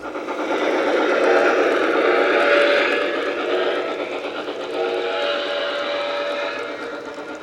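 An O gauge model train whistle sounds in two long, steady blasts, loud and close, with a short gap between them and no talking.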